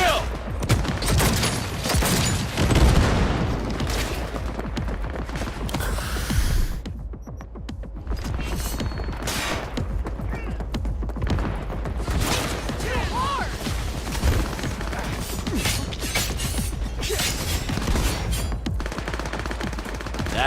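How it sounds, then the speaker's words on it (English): Sustained rapid gunfire from the video game Cyberpunk 2077 crackles in dense automatic bursts for the whole stretch, loud and close, with only a brief dip midway. "Shoot to kill!"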